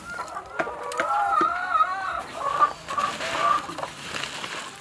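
Laying hens kept for household eggs and manure on a small Thai farm cluck and call in a run of repeated, fairly close calls over about five seconds, with no talking.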